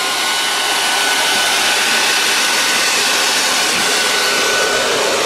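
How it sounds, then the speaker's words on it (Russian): Cooling fans on an air compressor run while it fills an Evanix Rainstorm air rifle, giving a loud, steady, broadband whoosh of rushing air that stays constant throughout with no talking. "Вот уже заработали вентиляторы."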